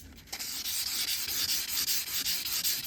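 Stainless steel car trim is hand sanded with 1200 grit paper before buffing, a close, steady, rhythmic back-and-forth rasp with regular strokes, no voices.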